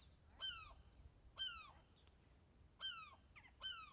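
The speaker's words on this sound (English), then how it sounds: "Very quiet, isn't it? Just the birds." Several birds sing in quiet countryside along a rocky path, with clear, repeated descending whistled phrases arriving in short bursts over a soft, low background hush.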